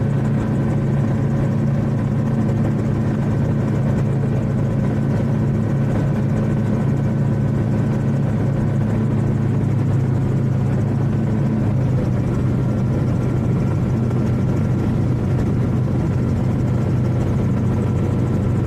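A gyroplane's engine drones steadily and loudly throughout as the aircraft flies low, about a foot above the ground, just before touchdown, with no talk over it.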